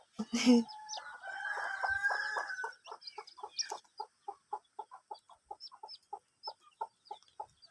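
A rooster that has molted its neck feathers and is penned with hens gives a drawn-out crow early on, followed by a long run of short, evenly spaced clucks nearby.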